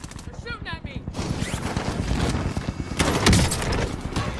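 Gunfire in Call of Duty Warzone, a dense run of rapid, loud shots and impacts heard close, with a short voice speaking at the start before the shooting builds.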